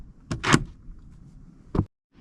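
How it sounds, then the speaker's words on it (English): A Mercedes SL55 AMG R230 door storage bin pops open at the press of a button, giving a couple of sharp mechanical clicks and a quick latch release, followed by a later single clunk, close and alone. "the doors come with these cool little storage bins that when you push the button, they open up."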